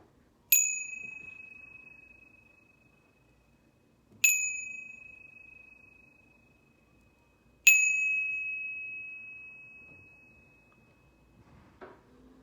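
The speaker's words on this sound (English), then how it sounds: "listening to the sounds of the bell" A meditation bell rings three times, evenly spaced, each strike clear and bright and left to fade into quiet. A faint soft knock comes near the end.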